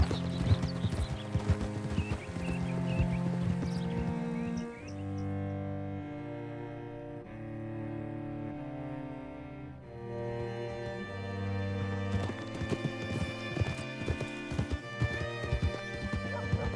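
Horse hooves clip-clopping in the western game Red Dead Redemption 2, a steady walking rhythm under a prominent orchestral music score, the hoofbeats sharper and busier near the start and end.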